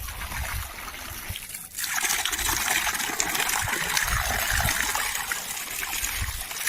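A continuous splashing, trickling rush of water close by from a fountain at a rooftop swimming pool, growing fuller after a brief dip, steady throughout with low rumbling underneath.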